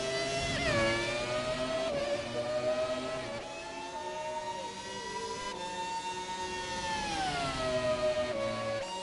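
2002 Ferrari Formula One car in a racing video game, its engine screaming at high revs with pitch rising and dipping through gear changes and corners, loud and continuous with no talking.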